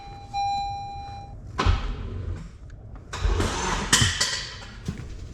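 A Honda Civic Type R engine cranking on its starter after a chime, with loud bursts of churning starter noise and thumps, close and alone without talk.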